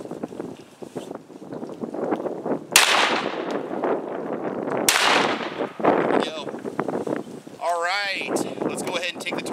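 Blasts from a Beretta A300 Ultima Patrol 12 gauge semi-automatic shotgun firing Federal LE, Federal PowerShock and Winchester 9-pellet buckshot outdoors: two sharp loud shots a couple of seconds apart, with people talking and wind noise around them.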